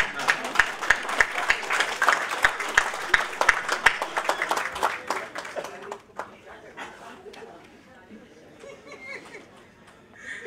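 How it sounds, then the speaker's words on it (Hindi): An audience at a kavi sammelan comedy poetry gathering claps in a rhythmic unison beat for about five seconds, then the clapping fades into murmuring chatter and scattered sounds. "ठीक है, ताली बजाओ, जब तक डायरी ले लूंगा।"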